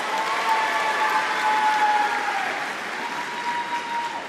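Audience at the Alabama A&M University fall commencement applauds, a steady, dense wash of many hands clapping that holds at an even level for several seconds with no voices over it.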